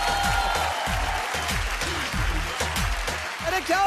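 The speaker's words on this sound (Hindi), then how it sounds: "तालियां" Applause from a TV dance show stage audience, clapping that mixes with a strongly pulsing music beat throughout.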